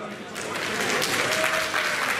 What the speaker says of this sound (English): please give a big round of applause to the Underfloor Heating Store from Basildon